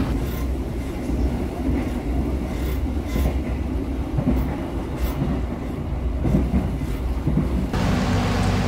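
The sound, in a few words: heavy rain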